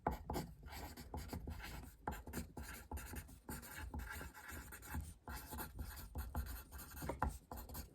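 Pen or pencil writing a sentence by hand on paper, a steady run of close scratchy strokes with brief pauses between words, heard alone with no talk.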